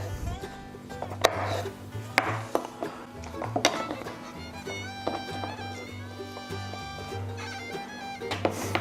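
A knife chopping sliced vegetable rings in half on a cutting board in a kitchen, a steady series of sharp, close taps and thuds at an uneven pace, with a low hum in the background.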